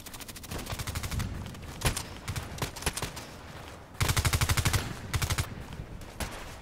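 Rapid bursts of automatic gunfire in a sniper video game, with several sharp volleys and a dense, loud stretch of repeated shots near the middle, no talk over it.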